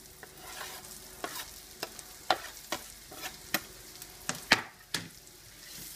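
Finely chopped shallots fry in hot oil with a steady soft sizzle, broken by a series of sharp scraping stirs from a utensil against the pan, close and fairly quiet, with no voices.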